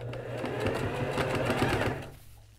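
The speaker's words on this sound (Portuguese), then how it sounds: "Vou fazer o mais fininho que eu puder e vou costurando aqui em todo o comprimento." A sewing machine stitches along a thin strip of Tactel fabric, a rapid steady whirring chatter for about two seconds that then stops, close and clear with no talking.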